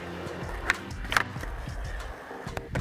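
Skateboard wheels roll on pavement, then a sharp board clack and a hard landing snap, followed by more rolling.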